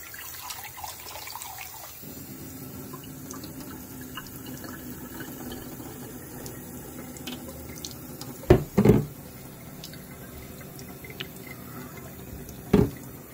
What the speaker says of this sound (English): Let's give it a rinse.